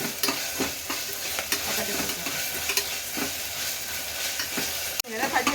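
Ginger-garlic paste fries in a pan for drumstick biryani, giving a loud, continuous sizzle with stirring scrapes throughout, and someone briefly speaks near the end.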